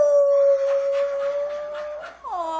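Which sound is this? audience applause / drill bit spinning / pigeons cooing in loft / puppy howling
puppy howling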